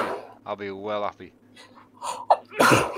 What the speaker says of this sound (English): I can never sneeze, just one.